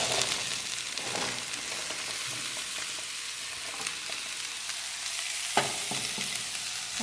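Diced vegetables and sausage sizzle steadily in a pan while being stirred for a white-rice risotto, giving a continuous crackling hiss broken by occasional utensil scrapes and one sharper clatter.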